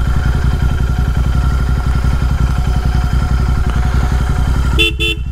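Royal Enfield twin motorcycle fitted with a BMC air filter, its engine thumping loudly and steadily at close range before a short double toot of a horn near the end.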